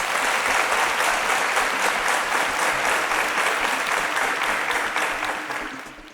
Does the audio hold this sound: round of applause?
yes